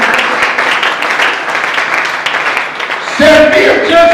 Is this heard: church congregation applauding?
yes